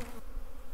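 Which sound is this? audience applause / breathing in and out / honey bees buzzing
honey bees buzzing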